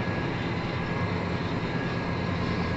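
A John Deere 8370R tractor with an electronic power shift roars at full throttle in 11th gear while chisel plowing, a steady, dense, close engine drone with no pauses.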